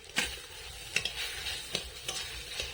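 A spoon or spatula stirs a mashed kochu (taro) kofta mixture in a pan over low heat. It makes about five soft, evenly spaced scraping strokes against the pan, close and fairly quiet, with no talking.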